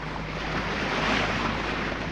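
A sailboat running under engine at sea, with a steady broad rush of waves and wind filling the whole moment and a low engine hum beneath, no voices.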